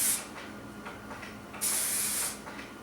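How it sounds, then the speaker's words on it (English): Two short hissing bursts from an aerosol can of dry conditioner sprayed onto hair, a quick puff followed by a longer spray, close and fairly soft. "And so dry conditioner is going to be another friend of yours. Spray this on,"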